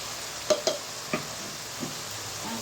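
Goat meat with ginger and turmeric sautéing in a pan, a soft steady sizzle broken by a few scraping stirs of a spoon, close and fairly quiet with no talk.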